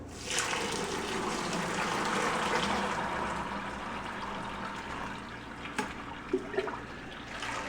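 Whiskey mash poured through a nylon mesh bag, giving a steady close splashing gush of liquid for most of the clip, easing slightly toward the end with a few small knocks near the finish.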